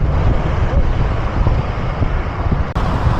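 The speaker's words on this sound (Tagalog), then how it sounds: "Lakas ng hangin guys." Strong wind roars steadily across the microphone while cycling downhill on Route 111, a dense low rumble with a brief dip near the end, with road traffic blending underneath.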